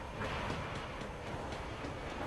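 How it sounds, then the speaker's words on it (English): A train arrives in an Android video game, a steady continuous rumble of rolling rail noise with faint clattering, heard alone at an even moderate level throughout. "Looks like the train is gonna arrive here in 10 seconds."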